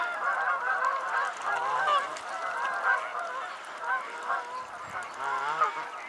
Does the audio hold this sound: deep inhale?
no